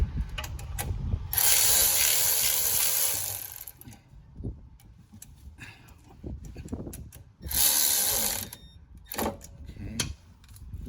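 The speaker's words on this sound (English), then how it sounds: "Now watch this ratchet work." Ratchet wrench clicking as it turns bolts on the starter of a 2005 Ford Mustang 4.0, in two loud bursts of rapid ratcheting separated by quieter clanks and handling noises nearby.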